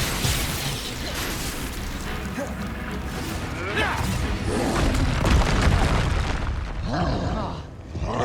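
A Confringo fire-blast spell goes off during combat in Hogwarts Legacy, a loud, rumbling explosive boom that swells and lingers for several seconds amid game effects, with voices speaking over it.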